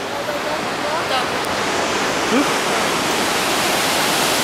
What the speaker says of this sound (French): Avec les cascades en bas